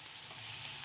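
Ginger garlic paste sizzles steadily in a hot pan, a soft continuous frying hiss with faint stirring, low and even throughout with no talk.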